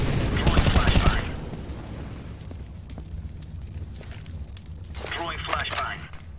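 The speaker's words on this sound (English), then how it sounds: "Throwing flashbang." A flashbang grenade thrown in Counter-Strike: Global Offensive on the de_mirage map, heard as a loud crackling burst at the start, followed by quieter game ambience and a brief noisy flare near the end.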